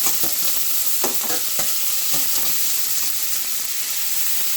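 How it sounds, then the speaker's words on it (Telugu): Green chillies, onions, garlic and curry leaves fry in hot oil, giving a steady, close sizzle with light stirring scrapes in the pan and no talking. "ఇది కూడా ఇక్కడ చక్కగా వేగుతుంది"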